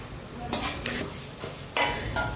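Ginger garlic paste and chicken cubes sautéing in a pan for Arabian chicken kabsa: a soft, steady sizzle broken by a few sharp spatula scrapes and stirs against the pan, close up, with no talking.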